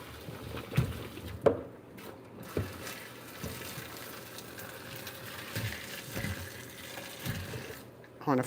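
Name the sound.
emptying a pot of water into a colander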